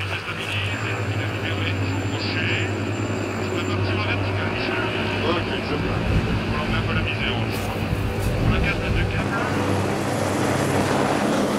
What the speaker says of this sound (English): The mechanic and pilot decide to winch from a great height to reduce the effect of the helicopter's downdraft on the snow.